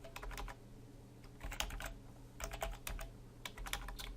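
Computer keyboard clattering as PHP code is typed, irregular bursts of quick close keystrokes with brief pauses between runs.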